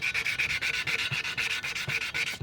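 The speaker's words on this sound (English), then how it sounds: "Sandpaper's nice." Sandpaper rubbed by hand over a Ford F53 motorhome's rear differential cover, a brisk regular rasping stroke repeated about a dozen times, close and even, with no voices.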